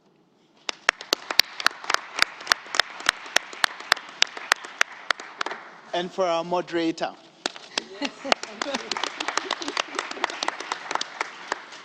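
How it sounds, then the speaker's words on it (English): Audience applause for panel speakers and a moderator at a leadership roundtable, sharp individual claps building into steady clapping, briefly broken by a voice, then resuming. "I'd like you please give a warm round of applause to our fantastic speakers"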